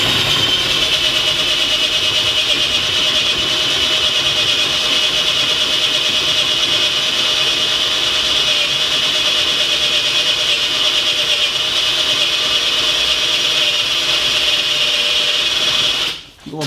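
Hilti SF 10W-A18 cordless four-speed drill running steadily in first gear while cutting with oil, a continuous close whine and grinding hum that holds level and then cuts off abruptly at the end.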